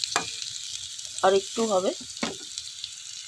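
Potatoes and onions fry in a covered pan without water, giving a steady soft sizzle with a few stirring scrapes, while someone speaks briefly over it.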